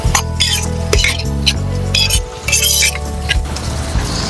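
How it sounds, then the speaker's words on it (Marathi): Onions sauté with turmeric and salt in a pan while a spoon stirs them, making repeated metallic clinks and scrapes over a steady hum with a gentle sizzle. "हळद आणि मीठ टाकून आपले 2 मिनिटं आपण परतून घेतलेत कांदे"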